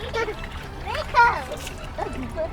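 Cold water splashes and sloshes close by in hot weather in Rome while a child and an adult talk over it, the splashing rising briefly in the middle.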